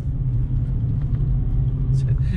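Mercedes-Benz C55 AMG engine running cold, a deep steady low rumble close by, with a voice speaking briefly near the end.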